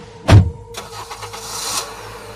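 An ambulance engine cranks with a sharp, loud thump, then settles into a running hum that swells slightly as the vehicle pulls away.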